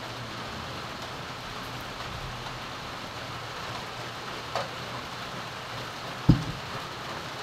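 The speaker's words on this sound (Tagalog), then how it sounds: "Walang tigil yung ulan." Steady nonstop rain in cold weather, a soft continuous hiss heard alone, with a couple of faint knocks toward the end.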